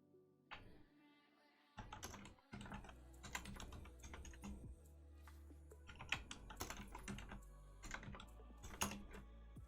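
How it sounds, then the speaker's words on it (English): Code being typed on a computer keyboard: close, rapid clattering keystrokes in dense bursts with brief pauses between runs, and no one talking. "so I will type these all out by hand"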